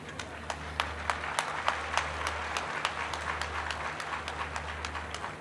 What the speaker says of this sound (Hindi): वैसे इसमें ज़्यादा तालियां लड़कों को बजानी चाहिए